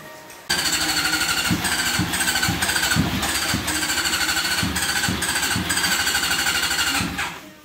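A 1986 Honda CBR400RR four-cylinder motorcycle engine, freshly carb-cleaned and tuned, fires up after a brief silence and settles into a loud, steady running idle with a rapid, slightly uneven pulsing beat.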